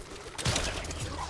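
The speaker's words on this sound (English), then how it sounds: "Come on, stupid bola gun." A bola gun firing in the video game Death Stranding: a quick cluster of sharp, rattling shots over a steady game background.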